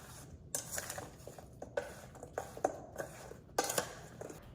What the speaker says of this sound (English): Use a spoon, toss it all together.